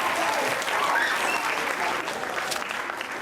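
A school group gives a quick round of applause for students with 97% attendance, a full, even burst of clapping from many hands that fills the short moment.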